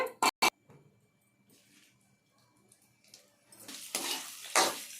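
Dried red chillies, cumin, mustard and fenugreek seeds start frying in oil, a few sharp metallic clinks of a pan followed by a rising close sizzle.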